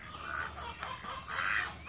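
Chickens cluck in a backyard bird enclosure built from cattle panels, with a duck among them. Steady close clucking runs throughout and swells louder toward the end, with no talking.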